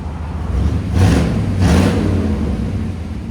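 Exhaust of a 1955 Ford Crown Victoria with a 292 V8 and rotted glass packs, a close low rumbling idle with two short revs rising and falling.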